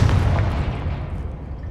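Confringo blasting spell detonating in the Hogwarts Legacy video game, a heavy booming blast with a deep low rumble that starts loud and slowly decays over nearly two seconds.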